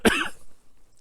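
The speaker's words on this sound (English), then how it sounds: "Coughing up a peanut." A single close, loud cough bursts out at the start, followed by quiet low rumble and faint background noise, heard while a D6 vee plow dozer is out grading roads.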